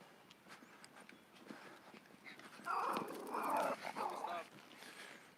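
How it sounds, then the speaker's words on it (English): A small dog barks in a short cluster of sharp yaps midway through, fairly close, against faint outdoor background noise as someone walks past. "It's always those little dogs."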